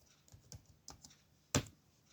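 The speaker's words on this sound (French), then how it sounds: "Je vais taper Telnet." Keys tapped on a computer keyboard during Cisco switch setup, a few soft clicks followed by one sharper keystroke, close and alone.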